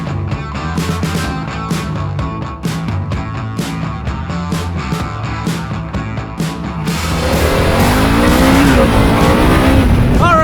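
A Harley-Davidson Pan America motorcycle rides along with a rumbling, pulsing engine that builds to a louder revving surge near the end, heard up close with wind noise.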